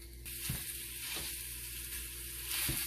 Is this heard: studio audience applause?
no